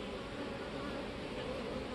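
Honeybees in an opened hive with swarm cells hum in a dense, even buzz that holds steady and fairly close throughout.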